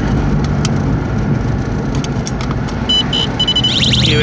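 A turbocharged car engine heard while cruising to work: a loud, continuous engine roar with road noise, close and steady throughout, with brief faint chirps near the end and no speech.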